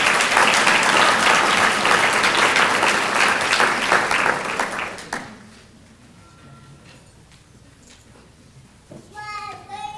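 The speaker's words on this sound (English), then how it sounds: "could everyone please give a round of applause for Mrs." A crowd applauds an honoree at a collegiate honor society event, loud sustained clapping for about five seconds, then it dies away into a quiet room with faint shuffling and a voice near the end.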